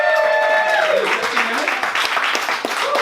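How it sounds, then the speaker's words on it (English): A live audience at a sketch comedy show applauds, a burst of clapping rising as a voice and a brief tonal sound at the start fade out underneath. "Round of applause for him."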